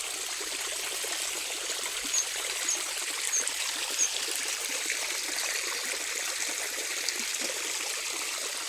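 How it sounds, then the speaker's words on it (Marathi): Water runs into a farm field being flooded against rats, giving a steady soft trickling and burbling flow with faint bubbly detail, continuous and fairly close, with no voices. "त्याच्यामुळे चालू केलं पाणी"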